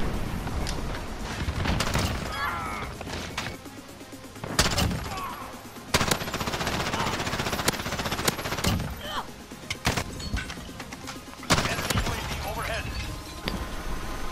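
P90 hip-fire in Call of Duty: Modern Warfare: repeated loud bursts of rapid gunfire with heavy impacts, broken by short pauses, with game sounds and a talking voice mixed in throughout.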